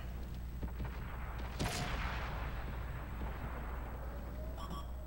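Tank cannon fire in the World of Tanks console game, with one sharp heavy blast standing out over a constant low rumble of engine and battle noise, plus a few fainter distant shots.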